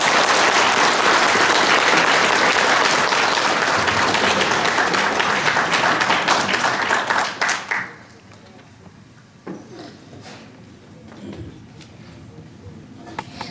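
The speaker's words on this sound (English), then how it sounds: "Let's give another round of applause for Governor Tony Evers." Dense audience applause at a Hmong Lao veterans event honoring Governor Tony Evers, loud and sustained for about eight seconds before dropping abruptly to scattered claps and quiet room noise.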